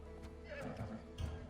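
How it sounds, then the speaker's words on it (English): A fierce horse in a video game gives a neigh and whinny, mixed with clip-clopping hooves in a short burst under soft background music. "I heard the neigh of a fierce horse."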